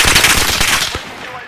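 Rapid P90 submachine gun fire in a video game, a loud sustained burst of fast repeated shots that tapers off near the end.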